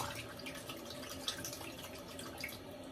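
A safety razor rinsed under a running tap, producing a continuous steady rush and patter of water close by with occasional small splashes.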